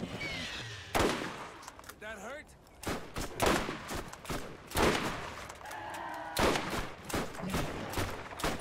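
Rapid gunfire in Borderlands 1 crackles in sharp repeated bursts, loud and close, with bouts of automatic fire and pauses between, while players talk over and between the shots.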